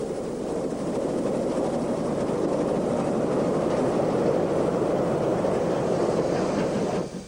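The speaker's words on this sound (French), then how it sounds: "on observe les trains de banlieue et des directs qui démarrent simultanément" French suburban and express trains pulling away together, a steady loud rumbling roar of rolling stock that holds evenly for several seconds and cuts off near the end.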